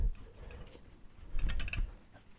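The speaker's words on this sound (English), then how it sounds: "Again, whisk ASMR." Wire kitchen whisk handled close up for ASMR, giving light metallic clicks and scrapes in short clusters, with a denser, louder burst of rattling near the end; no talking.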